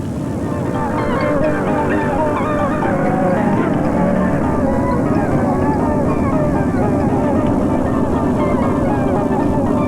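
Loud, steady droning of a B-17 bomber's piston engines as it comes in to land and settles onto its wheels, a continuous heavy roar throughout.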